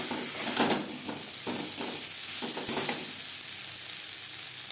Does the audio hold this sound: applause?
no